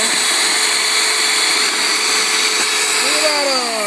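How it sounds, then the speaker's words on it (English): A power drill whines loudly and steadily as it bores through a stack of plastic cups, its pitch sliding near the end as the bit breaks through. "if you're drilling, get 5 at a time. 7 at a time. And just drill through."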